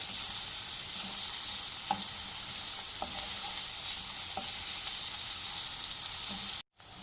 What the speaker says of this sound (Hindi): अब मैं इनको गोल्डन ब्राउन करूँगी।